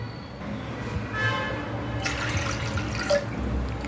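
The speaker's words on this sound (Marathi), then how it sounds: "यामध्ये थोडंसं पाणी अजून घेते आहे" Water poured from a glass into washed dal in a cooking pot, a steady close splash and trickle lasting a few seconds, with no talking.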